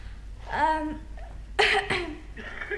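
A voiced, deliberate cough, followed by a second sharper cough burst, sounds performed rather than natural, with a short vocal tone in between.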